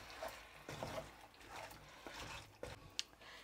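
Water is poured into a mixer jar to rinse it, a soft, faint splashing and trickling that comes in uneven bursts with a few small knocks.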